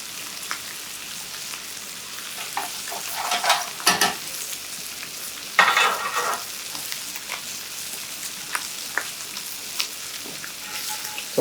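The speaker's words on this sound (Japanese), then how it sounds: "強火で焼き上げてあげて、ベーコンはねカリッと" Bacon crisps on high heat in a skillet, giving a steady close sizzle and crackle with scattered louder spits and pops, and no talking.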